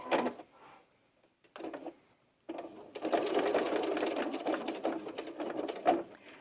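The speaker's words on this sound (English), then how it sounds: "Just be careful to not sew over your pins and make sure you backstitch" Sewing machine stitching the seam of a backpack for an 18-inch doll, a few short whirring bursts and then a longer steady run of rapid mechanical stitching, close and fairly quiet.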